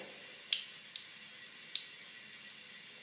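Faint, steady hiss of tap water running into a sink while a makeup contour brush is rinsed, with a few soft clicks and drips on top and no talking.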